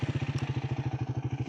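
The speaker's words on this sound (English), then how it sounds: "the exhaust sound." A Triumph Speed 400 single-cylinder motorcycle idles close by, its exhaust giving a steady, bassy, evenly pulsing thump that is not very loud, with no talking over it.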